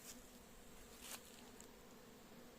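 Honeybees buzz around hives at an apiary in July, a faint, continuous droning hum with no pauses, distant and low in level.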